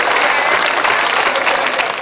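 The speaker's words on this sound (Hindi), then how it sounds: "जोरदार तालियां वाले बजती रहे, मेरा हौसला बढ़ता रहे" Loud, steady applause fills the room from an audience at a Hindi comedy poetry show (hasya kavi sammelan), dense clapping sustained without a break.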